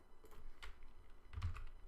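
Soft, faint keystrokes on a computer keyboard tap in an irregular burst over quiet room tone.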